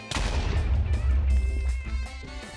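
Gunfire in a Minecraft roleplay game with Five Nights at Freddy's animatronic characters: a run of loud, sharp shots in quick succession, close and punchy, continuing for a couple of seconds with no talking.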